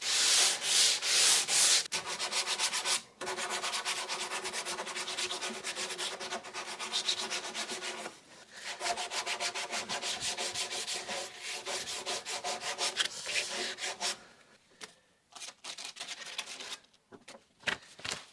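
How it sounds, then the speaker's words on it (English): Hand sanding of a wood moulding with 80-grit sandpaper: steady, close scratchy back-and-forth rubbing strokes that come in sustained bursts with a few short pauses, fairly quiet and with no talking. "we're just going to finish up with some sandpaper. Just 80 grit's fine for this."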